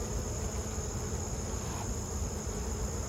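A steady, dense buzzing of many honey bees at a hive, close by and continuous, with no pauses or other sounds.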